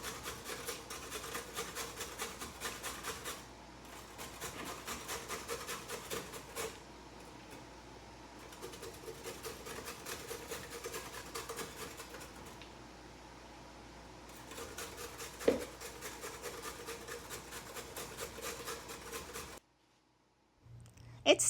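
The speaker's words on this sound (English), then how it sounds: "Let's start grating these carrots." Peeled, cut carrots being grated by hand for a cake, a steady rasping scrape repeated in long bursts with brief pauses, close and fairly loud, ending in near silence.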